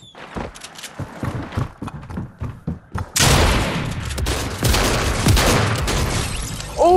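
Gunfire in the video game Fortnite: a run of sharp separate shots gives way to a dense, loud, sustained burst of rapid firing, close and harsh.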